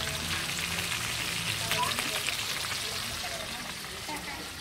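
Fish fries in a pan with a steady crackling sizzle, close and fairly quiet, while people talk faintly in the background.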